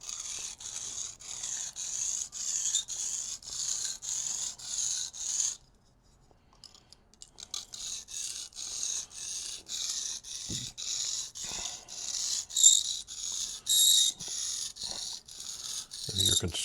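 A woodcarving knife blade strokes steadily back and forth on a DMT sharpening stone, a close, even rasping rhythm that stops briefly midway and then resumes with the same regular strokes.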